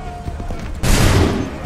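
A line of soldiers fires a musket volley in the Assassin's Creed 3 video game, one massive crackling blast that cuts in suddenly after shouted battlefield commands and then rolls on as a dense, sustained roar.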